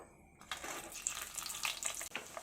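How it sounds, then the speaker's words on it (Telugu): Cashews fry in oil inside a sieve, giving a steady soft sizzle with bubbling crackles, close but fairly quiet, over about two seconds. "జీడిపప్పు ఎక్కువ వేగవసరం లేదు, ఇలా వేగితే సరిపోతుంది"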